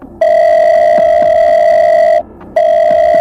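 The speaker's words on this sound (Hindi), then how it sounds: "फिर टिया को कॉल किया।" A steady electronic ringback tone of a phone call in a Hindi audio drama, one long loud pulse, a short gap, then the tone resuming, clean and close with no voices.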